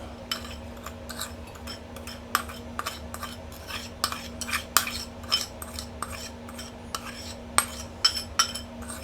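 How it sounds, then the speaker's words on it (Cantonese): Eggs are beaten with a whisk in a bowl after sugar was added, producing a run of quick, sharp metallic clinks and taps against the bowl in an uneven rhythm, close and moderately loud, with no speech. "咁打蛋呢，我就會用一個棒嚟打啦，打勻佢。"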